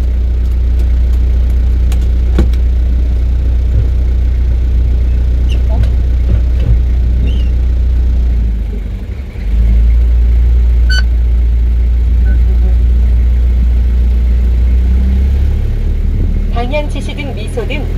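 A car in a Korean class 1 driver's licence road test releases the parking brake, pulls away and rolls forward slowly under 20 km/h, a steady low engine hum running throughout with a brief dip midway.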